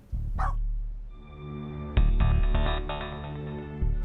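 A single sharp bark from a female dog early on, followed by a steady low rumbling hum that swells louder partway through.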